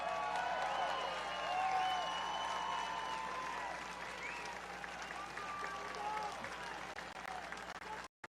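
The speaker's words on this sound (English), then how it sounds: "Give them a big round of applause" Rally crowd applauding and cheering outdoors at a Trump rally in Butler, Pennsylvania, a sustained distant roar of clapping with whistles and shouts before an abrupt cutoff.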